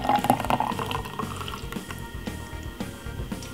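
Mango cleanser drink poured from a container into a glass, a close liquid splashing and trickling stream lasting a few seconds with dripping toward the end, heard on its own.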